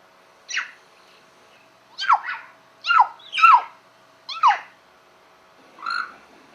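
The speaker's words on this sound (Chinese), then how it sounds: "我听到青蛙声从那边传来的。" A run of six sharp, chirping frog calls at uneven intervals, fairly close and clear against a quiet summer night background, with no talking.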